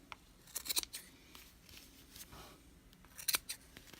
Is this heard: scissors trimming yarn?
yes